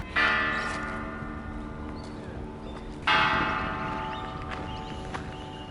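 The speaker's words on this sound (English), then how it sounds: "So these are the Federation bells." The Federation Bells in Melbourne ring out with sustained, overlapping tones, a fresh loud strike midway renewing the chime as the resonance slowly decays.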